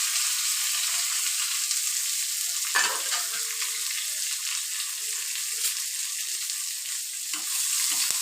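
Garlic and sliced onion fry in oil with mustard seeds and curry leaves for a rajma stir-fry, a steady bright sizzle with occasional scraping stirs of a spoon; no speech.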